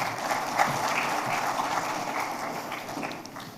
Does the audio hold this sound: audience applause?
yes